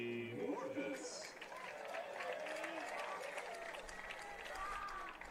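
Crowd at an Averett men's lacrosse game against Shenandoah applauding and cheering for a senior player, a sustained wash of clapping with an announcer's voice over it at first.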